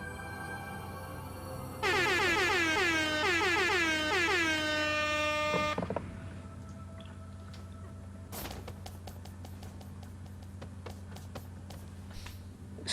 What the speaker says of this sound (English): The air horns are an item that were exclusive to Smash Bros.